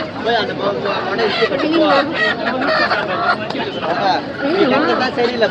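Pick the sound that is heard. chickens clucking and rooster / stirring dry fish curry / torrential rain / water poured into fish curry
chickens clucking and rooster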